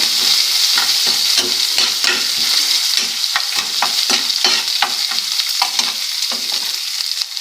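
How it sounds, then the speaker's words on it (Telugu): Green chillies frying in hot oil for semiya upma, a loud steady sizzle and crackle close by, broken by repeated stirring scrapes of a spatula, with no talking. "నాలుగైదు పచ్చిమిర్చికాయలు తీసుకున్నాను వేపాలండి"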